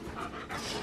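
A German Shepherd pants close by in quick, breathy rhythmic puffs, soft and continuous across the short moment.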